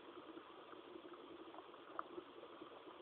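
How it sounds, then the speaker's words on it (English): Water coming to a boil in a pot over a prototype HHO stove burner, a steady low bubbling hiss running throughout with a faint brief pop near the middle. "Well, the water's starting to boil."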